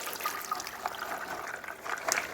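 Soaked peas and their soaking water poured into a stew pot for stewed peas, a faint continuous splashing trickle with soft bursts of liquid, close by and quiet.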